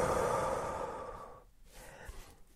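One long, deep breath out during a half-kneeling rib cage exercise, a close, soft airy rush that slowly fades to quiet, followed by a few faint small noises, with no talking.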